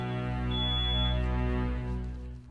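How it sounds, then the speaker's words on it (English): Household smoke detector sounding during a kitchen pan fire, a steady loud electronic tone held continuously for a couple of seconds, with no voices. "the smoke detector was going"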